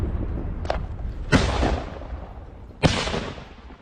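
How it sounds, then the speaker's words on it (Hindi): Gunfire in combat by Ukrainian soldiers advancing: two loud sharp shots, spaced over a second apart, each with a long echoing tail, over a low rumble and a fainter earlier pop. "गोलियां बरसाते दिखे यूक्रेनी सैनिक, गोलीबारी करते हुए आगे बढ़ रहे हैं ये सैनिक"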